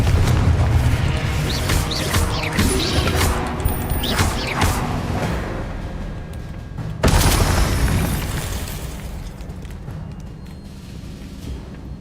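Confringo spell blasts in the video game Hogwarts Legacy: a rumbling series of booming explosions and whooshes, with a sharp, loud burst midway followed by a fading roar.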